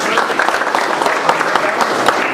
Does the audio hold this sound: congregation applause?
yes